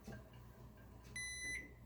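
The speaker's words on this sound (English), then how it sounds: "The timer's going to go off in 20 seconds." A kitchen timer gives a short, clear electronic beep near the end, heard once after a moment of quiet kitchen room tone.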